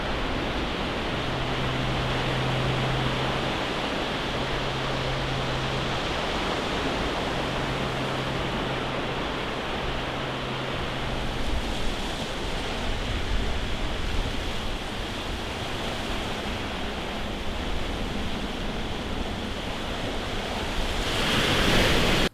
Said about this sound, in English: the constant sound of the sea gets quite boring as the film goes on.